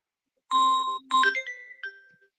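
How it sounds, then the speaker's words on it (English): A phone rings with a short, bright electronic melody, a few chiming notes that rise and then fade after a moment of silence. "I'm hearing a ringtone in the background."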